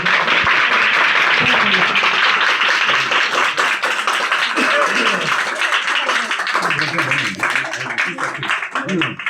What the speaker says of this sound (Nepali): तालीबाट स्वागत